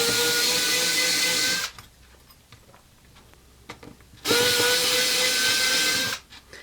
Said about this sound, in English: In case you want to use the electric screwdriver, as I mentioned, this is going to be a lot easier and faster.